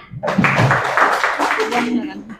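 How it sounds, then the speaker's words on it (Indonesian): Classroom applause from students during a guidance lesson, a brief burst of clapping of about two seconds mixed with some voices, fading at the end. "Oke, berikan tepuk tangan."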